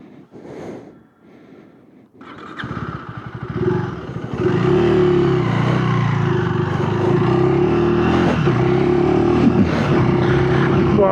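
A KTM 390 Adventure R motorcycle riding off-road with its throttle in the most aggressive off-road mode, starting with a few soft sounds, then the engine pulling up to a steady, loud, close drone with gravelly rumble underneath.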